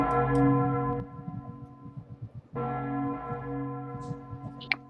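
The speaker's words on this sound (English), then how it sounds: "You hear this bell coming from Citadel Hill." A large alarm bell on Citadel Hill rings out over the city, its long sustained strikes swelling, fading and striking again, loud and reverberant with no talk over it.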